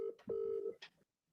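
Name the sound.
telephone dialing to start an audio call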